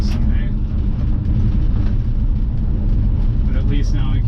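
Steady low rumble of a 1985 GMC C2500 pickup truck on the road, heard from inside the cab, continuous and fairly loud with a little rattle throughout.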